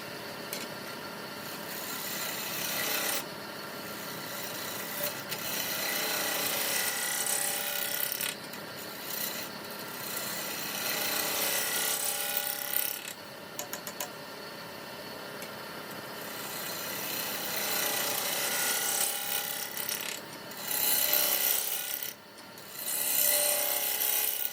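Scraper cutting maple on a wood lathe, a continuous rasping, rubbing scrape that swells and fades in long passes with a couple of short pauses, close and fairly loud with no talk.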